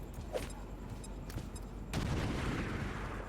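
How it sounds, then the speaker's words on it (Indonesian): A frag grenade blast in XCOM 2, a short burst of explosive noise after a few quieter game effects, moderately loud and alone. "Ya, kita throw frag grenade atau granat, kita lempar."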